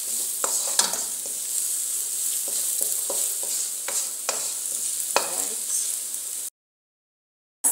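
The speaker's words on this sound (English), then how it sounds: "I'm cooking under very low flame because I want all the spices to mix well" Spices frying over a very low flame for beef-flavoured Indomie instant noodles: a continuous bright sizzle with occasional stirring scrapes and taps, fairly close, cutting off abruptly into silence near the end.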